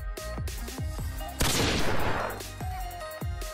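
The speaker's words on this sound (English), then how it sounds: "He's doing 360 no scopes with a sniper rifle." Repeated gunshots in a video game, sharp close reports spaced a fraction of a second apart with a louder burst of blasts in the middle, over game sounds.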